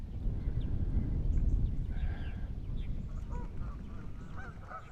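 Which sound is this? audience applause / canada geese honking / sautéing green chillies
canada geese honking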